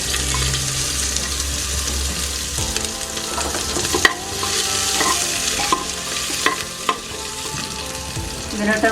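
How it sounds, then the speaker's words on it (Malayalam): Ginger and onion sautéing in oil in a pressure cooker while a pulav is made, with a steady sizzle and repeated scraping and clinking stirs, close and continuous with no voices. "ഇനി ഈ എണ്ണയിലോട്ട് നമുക്ക് ഓരോന്നോരോന്നായിട്ട് വഴറ്റാം."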